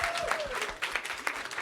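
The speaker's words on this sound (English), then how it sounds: "Can we give them one more round of applause for our participants?" A brief burst of crowd applause for event participants at an innovation competition finale, moderately quiet, with a voice audible under the clapping.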